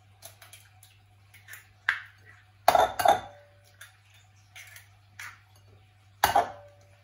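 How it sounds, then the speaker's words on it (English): Fresh organic eggs cracked against a bowl for scrambled eggs with truffle: a few sharp, close taps and clinks, with two distinct cracks early on and another near the end, plus lighter rattles between them. No voices. "start cracking my beautifully fresh organic eggs"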